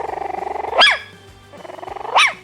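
A brown and white puppy gives two sharp, loud barks, each preceded by a low rumbling growl, close by and alone.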